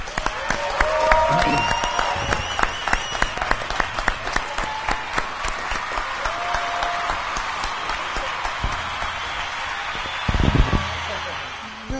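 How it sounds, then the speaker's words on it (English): Studio audience at a live creative skills pitching event applauds warmly, dense steady clapping with some cheering and whistles, a voice speaking briefly over it near the end. "Warm claps for them, please."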